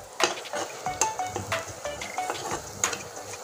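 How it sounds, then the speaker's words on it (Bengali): A spoon scrapes and knocks against a pan while spice paste fries. The clinks and stirs are irregular and close, over a soft sizzle, and no one speaks. "এবার মশলাটা সুন্দর করে কষতে থাকবে।"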